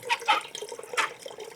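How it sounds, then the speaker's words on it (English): Tap water runs into a sink while a turkey is prepared for brining, a short steady splashing flow with a few brighter bursts, close by and fairly quiet with no talking. "Turn the water off."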